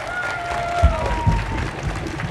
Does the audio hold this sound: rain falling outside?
no